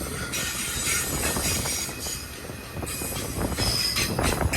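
A Union Pacific freight train rumbles past at a distance on the Palmdale cutoff, with steady rolling wheel noise and some metallic squealing throughout.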